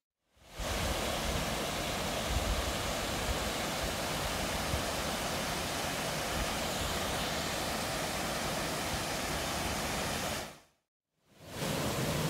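Steady, roaring broadband rush of water at the foot of a waterfall, loud and close, continuous for about ten seconds before a brief cut and then resuming.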